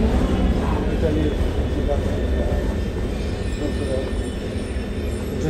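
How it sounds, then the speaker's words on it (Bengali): A driverless blue metro train on the Milan underground gives a steady loud low rumble with constant rolling noise and faint squeal, heard from inside or close by. "মেট্রো চলে একা একাই। গেট খুলে গেল, আমি নেমে গেলাম, আবার গেট আটকে যাবে"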